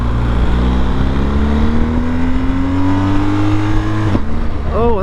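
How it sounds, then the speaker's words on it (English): A BMW S1000XR motorcycle with a quick shifter accelerating hard, its engine note climbing steadily until a sharp, abrupt cut at the gear change, then pulling again, loud and close over wind noise. "Oh, that quick shifter is nasty."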